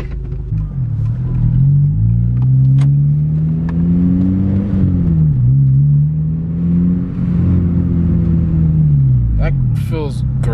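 A car engine with newly fitted Hybrid Racing transmission detent springs hums and rises in pitch as it pulls away in gear, a loud, close, steady drone with two swells.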